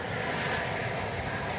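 American Airlines airliner in oneworld livery at DFW Airport, a brief steady engine rumble at moderate distance with no break.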